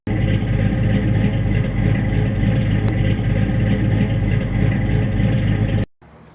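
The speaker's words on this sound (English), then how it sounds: "Now I measured the decibel output of the current exhaust system." A Fox Body Ford Mustang idles steadily on its stock 2.25-inch exhaust, a loud, constant rumble close to the tailpipe for several seconds, then cuts off abruptly.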